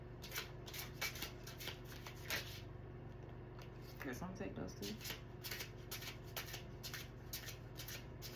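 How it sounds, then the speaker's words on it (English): Slick tarot cards are shuffled close up in a run of quick riffling and sliding bursts, and a person speaks over the shuffling partway through. "Trying to be careful how I'm shuffling these because they're slick."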